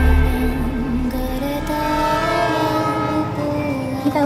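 A train rumbling through a forest in a film scene, with a steady low roar and sustained horn-like tones across the whole stretch, loud and continuous with no talk.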